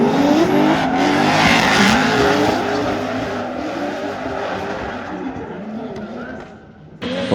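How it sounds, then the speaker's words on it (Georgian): Rally cars race away at a stage start, producing loud, continuous engine roar with revving and tire noise that fades slightly before a sudden loud burst near the end, heard under a commentator's voice. "მათე როჭიკაშვილი კიდევ ერთხელ დაუბუქსავდა სტარტზე ავტომობილი ომიკო ფანჩულიძეს"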